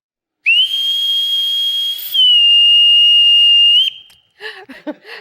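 A loud, steady whistle blown alone in two long sustained blasts, the second slightly lower in pitch, followed by a few brief faint sounds after it stops.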